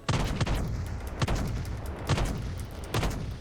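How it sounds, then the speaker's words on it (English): Quad cannons on a game ship fire in four heavy, booming blasts, evenly spaced and loud, each one thudding with a short rumbling decay. "And then we have some quad cannons."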